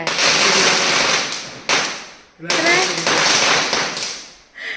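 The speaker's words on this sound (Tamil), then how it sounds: "பட்டாசு வெடிக்குது." Rapid crackling bursts of Diwali firecrackers going off in long rattling strings, with short gaps between volleys, loud and nearby.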